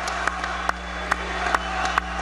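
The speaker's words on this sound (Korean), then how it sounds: "사람들이 이제 굉장히 환호성을 보내죠" A large outdoor crowd at Trump's Boy Scout jamboree speech applauds and cheers, a dense wash of clapping and shouts with a few sharper claps standing out in a regular rhythm.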